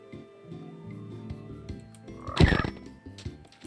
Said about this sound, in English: Whoa, what is that? A frog?